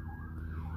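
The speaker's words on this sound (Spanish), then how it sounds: "otra policía, ambulancia o bomberos, no sé qué sea" An emergency siren from a police car, ambulance or fire engine passes in the street, its steady wailing tone filling a brief moment at moderate loudness amid low traffic rumble.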